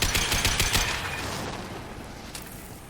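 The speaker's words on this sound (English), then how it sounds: "laten we dat gewoon even doen met onze assault rifle" Assault rifle fire in Mass Effect 2, a quick rattling burst of shots at the start that fades into a rumbling tail, then one faint shot near the end.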